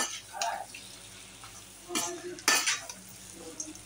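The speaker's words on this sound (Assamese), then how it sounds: "ধুনীয়াকৈ লৰাই থাকিব দেই মাংসটো, ধুনীয়াকৈ লৰাই থাকিব মাংসটো" Duck meat being stirred and fried in a pan, with sharp spatula scrapes and clinks against the metal over a low sizzle, a few distinct bursts of stirring separated by quieter frying.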